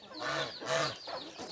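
A prized chicken at a backyard poultry coop makes three short, honking calls in quick succession, close and fairly quiet, with some faint background noise.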